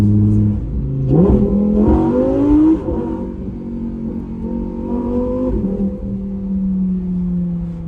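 A Lamborghini engine revs hard and close, its pitch climbing in a loud surge, then settling into a steady, throaty drone with another brief rise.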